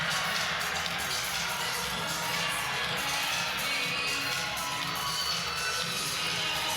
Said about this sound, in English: Applause raining in.